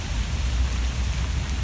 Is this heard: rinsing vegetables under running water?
no